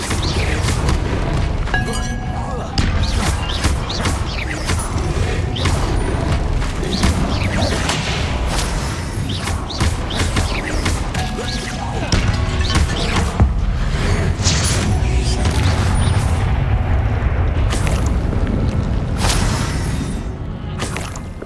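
Repeated Bombarda spell blasts in Hogwarts Legacy, dense booming explosions with crashing, creaking and shattering debris, loud and continuous through the whole stretch with game sound layered on top.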